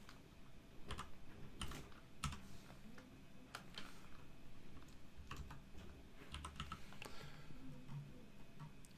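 Someone types on a computer keyboard while filling in document properties in a word processor, producing irregular, close key clicks and occasional heavier taps, faint and alone without talk.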